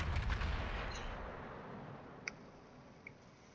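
Yamato battleship artillery fires in a naval video game, a heavy low boom that rumbles and fades away, followed by a couple of faint sharp ticks.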